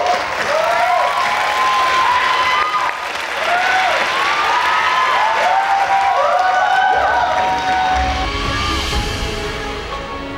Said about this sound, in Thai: ปรบมือให้กับมิวสิกหน่อยครับ